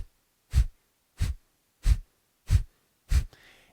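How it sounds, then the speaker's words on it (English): Kapalabhati breathing: five sharp, forceful exhales pushed through the nose, evenly spaced about two-thirds of a second apart, close and puffy, with quiet passive inhales between them and a faint trailing breath at the end. "active exhale through the nose, passive inhale through the nose, and there's a pulse of the belly in and up."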